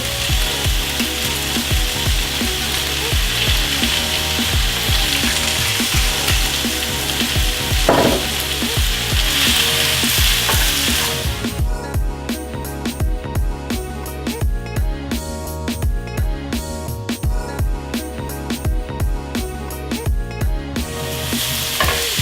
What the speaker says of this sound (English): if your spinach starts to cook a little bit too fast, you can add a little bit more oil to it if needed.